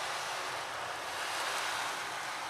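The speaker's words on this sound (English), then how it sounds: "And with the sound of the ocean," Ocean waves wash steadily as a continuous broadband roar of surf, even and unbroken throughout, with no voices.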